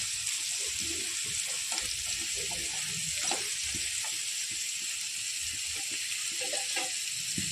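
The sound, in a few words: okra frying with coconut in a pan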